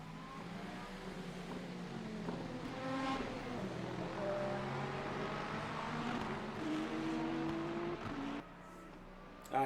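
A hypercar in the sim racing game Le Mans Ultimate, racing at Belgium, gives a loud, steady engine whine whose pitch climbs through the gears, with layered tones from other cars around it.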